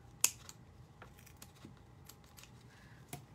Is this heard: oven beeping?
no